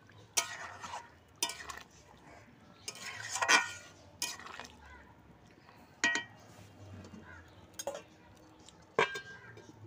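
A spoon stirs chicken curry cooked with poppy seeds in a pan, making intermittent metallic clinks and scrapes against the pan with quiet pauses between strokes, close by.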